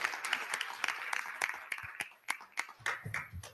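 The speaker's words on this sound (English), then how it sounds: "Please give our Teacher of the Month recipients another big round of applause" Quiet, steady clapping from the audience at a school district board meeting honoring teachers, with distinct claps repeating evenly, somewhat distant and faint.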